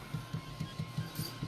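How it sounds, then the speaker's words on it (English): An acrylic-framed Prusa i3 Pro B 3D printer printing in black ABS gives a quiet, steady run of rhythmic low motor pulses, roughly five per second, over a faint constant hum. "This is the acrylic Prusa I3 PRO B."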